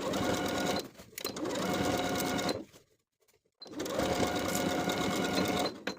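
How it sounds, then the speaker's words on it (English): A sewing machine stitches seams on a summer jumpsuit in two long runs of rapid mechanical whirring, separated by a short near-silent pause, close and loud with no talk. "Sew these seams with a 3/8 inch seam allowance."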